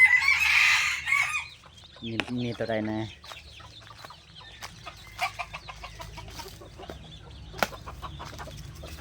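F3 roosters and hens make a loud nearby crow, then a run of clucks, followed by quieter scattered bird calls and rustling while someone speaks briefly.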